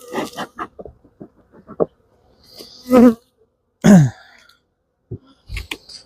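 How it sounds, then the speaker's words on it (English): Honey bees buzzing around an open hive during an inspection, with a couple of loud close buzzes as bees fly past, between scattered clicks and knocks from handling the frames. "Very jumpy bees."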